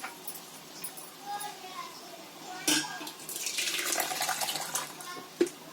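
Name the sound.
transferring cooked dal from pressure cooker into a pot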